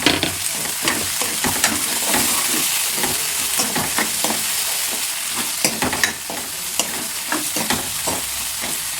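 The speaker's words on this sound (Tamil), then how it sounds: "இது கொஞ்சம் அப்படியே நல்லா வதங்கட்டும்." Chopped tomatoes fry in hot oil, sizzling continuously while a spatula stirs and scrapes the pan in frequent sharp taps.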